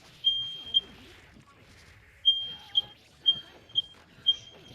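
A fire alarm going off, sounding as repeated high electronic beeps in short pairs and bursts at moderate distance over faint background sounds.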